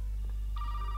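Telephone ringing in the horror video game Resident Evil 7, a steady electronic ring tone starting midway through over a constant low hum, brief and moderately loud.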